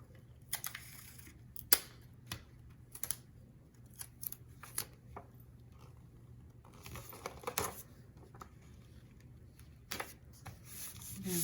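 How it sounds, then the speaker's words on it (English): Double-sided tape being applied to a folded paper gift bag: close, quiet paper rustles and scattered soft taps and crinkles over a faint steady hum, with no talking. "This is where we're gonna use our double-sided tape."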